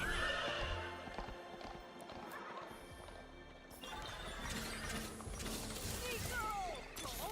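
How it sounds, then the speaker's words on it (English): Horse sounds on a horse-themed map in a video game: clip-clopping hooves and repeated neighs and whinnies, mixed with mechanical ratcheting and clanking, all at a moderate level with faint background game noise. "it's a horse map, that's why there are horse noises"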